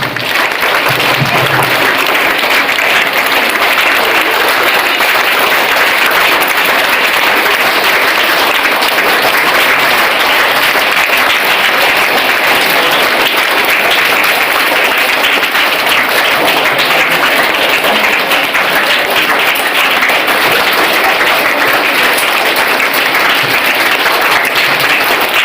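Thunderous applause from a school audience at a Science Day event in Kalyandurgam, honoring the chief guest with a shawl; dense, continuous clapping fills the hall for the whole stretch without pause.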